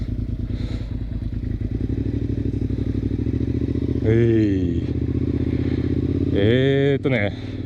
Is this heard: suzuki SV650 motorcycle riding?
yes